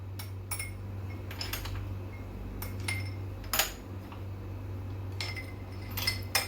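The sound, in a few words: ice cubes being added to a glass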